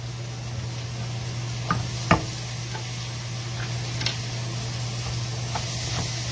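Mince with masalas is stirred as it sizzles in a home pan: a steady low hum and soft frying hiss, with a few sharp spoon clicks against the pan.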